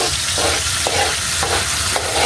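Chopsuey vegetables fry in a hot pan while being stirred, a dense continuous sizzle with rhythmic scraping strokes about every half second, close and loud, no voices.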